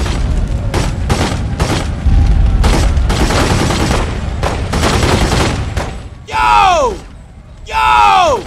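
Gunfire in The Godfather 2 video game, a rapid loud barrage of repeated shots with heavy booms, followed by two shouting voices.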